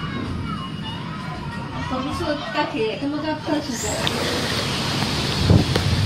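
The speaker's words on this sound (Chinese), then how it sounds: "然后我给大家听一下这风声啊！" Hurricane-force wind roars outdoors, a loud broadband rush that builds and gusts steadily, with people talking over it at the start.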